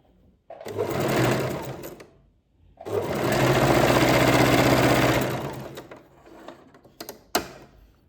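Sewing machine stitching crossed fabric pieces together for a kaftan, running in two long loud bursts with a short pause between, then fading to a few small clicks and handling taps.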